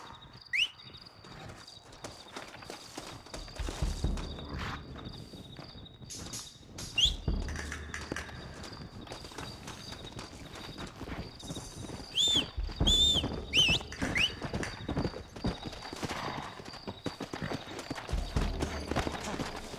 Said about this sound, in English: Looks like Carlos left us some horses.